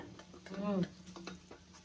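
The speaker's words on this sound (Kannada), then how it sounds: "ಒಣ ಕೊಬ್ಬರಿನ ಚೆನ್ನಾಗಿ ತುರಿದು ಫ್ರೈ ಮಾಡಿ" Grated dry coconut frying and being stirred in a pan, a quiet sizzle with light scraping ticks and a brief voiced sound partway through.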